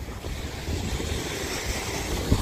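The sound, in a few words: strong wind and large ocean waves on shore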